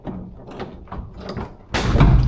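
The boot lid of an R31 Nissan Skyline, which is stuck, is tugged and rattled with repeated close clunks, then gives way with a loud, heavy thud that rings on.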